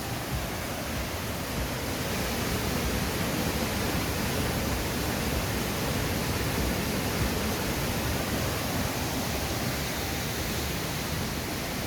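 Sari Ella waterfall running high, a dense, loud, unbroken roar of rushing water filling the whole clip with no other sounds.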